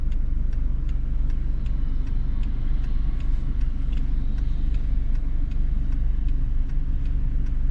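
A car drives during a Florida driving test, with a steady low engine and road rumble inside the cabin and faint regular ticking above it.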